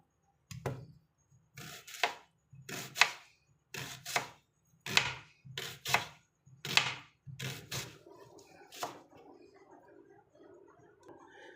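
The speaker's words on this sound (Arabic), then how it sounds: "انا قطعت معاكم البصل اهو حلقان" A knife slices onions into rings on a cutting board in a home kitchen, with close, crisp chops falling in quick clusters of two or three and a softer, busier stretch of cutting toward the end.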